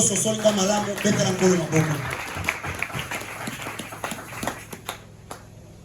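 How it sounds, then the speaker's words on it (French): A church congregation applauds during a pastor's New Year covenant night service, a dense wash of many hands clapping that thins out into scattered claps, with a voice speaking over the start. "applaudissez le Seigneur"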